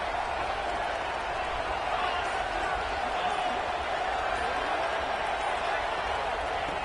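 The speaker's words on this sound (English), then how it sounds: "And here comes the noise. This crowd is trying to inspire this defense to make a big red zone stop." A college football stadium crowd roars steadily during a red zone defensive stand, a dense, sustained wall of cheering and noise with no breaks, heard from within the stands.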